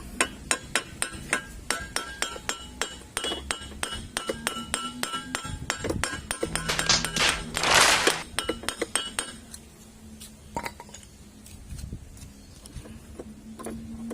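Hammer blows on a chisel ring out against a Honda Click V1 scooter's steering ball race, a rapid metallic clinking series that pauses and resumes, with scraping and rustling in between.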